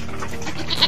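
A sheep bleats once, loud and close, a brief wavering call among other farm animals being fed.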